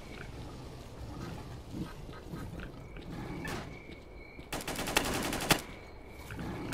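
Bursts of automatic gunfire from a firefight in S.T.A.L.K.E.R. Call of Chernobyl, a dense rattling volley near the middle standing out from a steady, murky background of game ambience.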